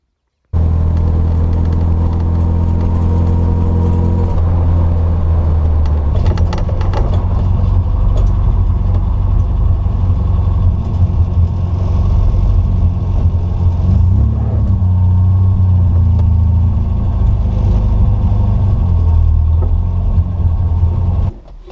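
A classic MGB GT Sebring car's engine runs close by with a loud, steady, throaty drone, and its pitch shifts slightly with gentle changes in throttle throughout.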